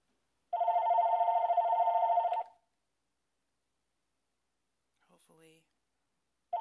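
A phone rings in a steady two-second electronic burst, then silence with a brief faint clatter, and a second ring begins at the very end.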